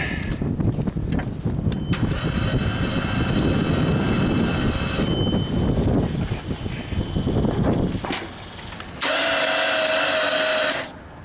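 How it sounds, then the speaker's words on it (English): A JLG baby scissor lift engine with all three spark plugs removed and a weak battery cranks over steadily for about eight seconds, a loud, continuous mechanical whirring, then stops before a harsher high whine starts for a couple of seconds. "So I took out all 3 spark plugs. We're just gonna crank this sucker over."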